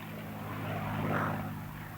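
A Spitfire propeller fighter from the Battle of Britain era drones past at a distance, its engine note swelling toward the middle and then easing off, alone with no voices.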